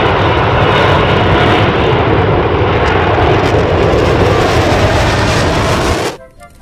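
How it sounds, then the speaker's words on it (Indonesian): A loud, continuous fighter jet roar plays as a sound effect for a toy fighter plane, holding steady for several seconds before cutting off abruptly. "Wih, kalau ini pesawat tempur."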